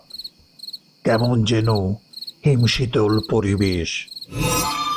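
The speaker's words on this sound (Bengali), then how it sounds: "ঝিঝি পোকার ডাক" Steady, pulsing cricket chirps ring through the whole stretch at night, while a person speaks over them in several short phrases.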